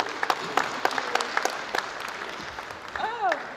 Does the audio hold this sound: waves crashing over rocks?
no